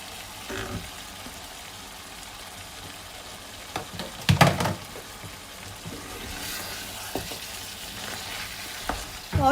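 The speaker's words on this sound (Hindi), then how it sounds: "और 2 से 3 मिनट के लिए गाजरों को थोड़ा सा भूनूंगी" Carrots frying in masala in a pan, soft sizzling with scraping stirring strokes and a few louder clatters of the spoon against the pot.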